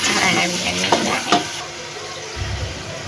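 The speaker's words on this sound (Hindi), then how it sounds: "तो आप इसको जब चम्मच के साथ वक्फे से हिलाते जाएंगे तो इंशाल्लाह चारों तरफ से अच्छे से फ्राई होगा" Chicken and turnip fry in a pressure cooker with a loud, dense sizzle while a spoon stirs and knocks against the metal a few times, and the hiss eases toward the end.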